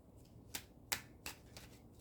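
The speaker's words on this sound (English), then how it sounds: "So we're gonna just shuffle a little bit longer." Cards riffle and snap in quick bursts, several shuffles in a row, close and crisp against a quiet background.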